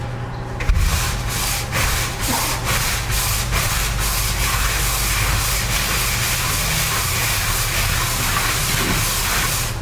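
A broom scrubs acidic cleaner across a wash bay floor, a loud continuous rough swishing with strokes repeating in a fairly steady rhythm, close by.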